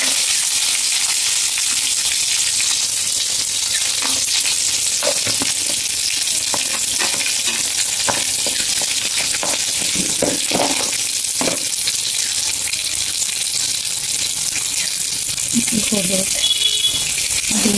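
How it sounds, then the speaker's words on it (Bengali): Potatoes frying in oil with a black cumin tempering give a loud, continuous sizzle close by, broken by occasional stirring clatter. "এরপরে একটু কালো জিরে ফোড়ন দেবো, তার সাথে আলুটাকে ছেড়ে দেবো,"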